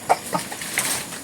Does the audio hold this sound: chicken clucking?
yes